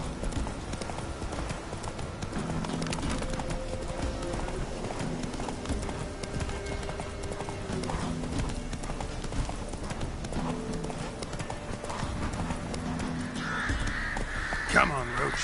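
Hooves of Roach, Geralt's horse in The Witcher 3, clip-clop in a steady galloping rhythm throughout, with game ambience and crow caws around them and a voice talking over parts of it.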